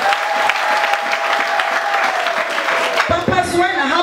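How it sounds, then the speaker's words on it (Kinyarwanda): Large church congregation at a crowded gathering breaking into steady, dense applause that fills the room, loud and sustained, with voices mixed in and a brief shift near the end. "Ko mutamukomera amashyi y'akazi."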